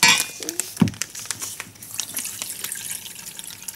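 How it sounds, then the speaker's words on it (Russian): Water runs and splashes into a bowl of yellow jelly mix while making bouncy jelly balls, a short tap-like pour with drips and clinks of a dish, close and fairly loud, with no one speaking. "Теперь надо налить водички"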